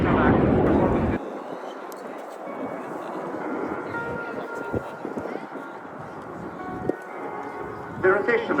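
An aerobatic airplane rolls through a barrel roll at an airshow, a distant sustained engine drone and rushing noise carried across the field, while an announcer talks over it.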